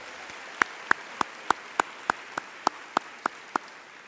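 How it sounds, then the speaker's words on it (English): At a school district's opening-day ceremony for faculty and staff, clapping comes as a faint string of about a dozen crisp claps, evenly spaced and steady, heard from a distance with little else around them. "Let's give yourselves a round of applause"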